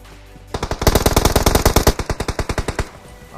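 Automatic AKM rifle fire in the mobile battle royale game PUBG Mobile, a rapid burst of roughly twenty loud, evenly spaced shots that starts abruptly and runs for over two seconds before stopping.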